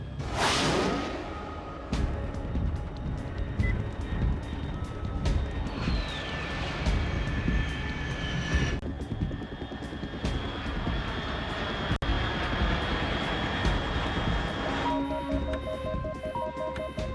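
A jet aircraft in the video game Metal Gear roars steadily overhead, a loud continuous engine drone with a rising whoosh at the start, accompanied by tonal game sounds and no talk.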